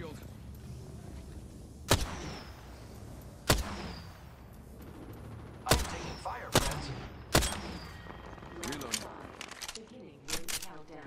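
Sharp gunshots ring out in Apex Legends, several spaced single cracks and a quick cluster near the end, loud and close over a busy game background while a player talks.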